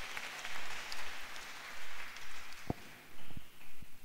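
Church congregation applauding during a sermon, a dense, loud patter of many hands clapping in pulsing waves, with a few heavier thumps near the end.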